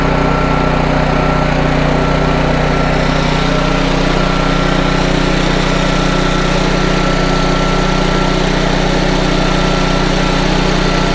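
A Honda EM650 portable generator runs at a steady idle with no electrical load, its carburetor freshly adjusted after an earlier surging fault; a loud, continuous engine drone holds evenly throughout with no talking.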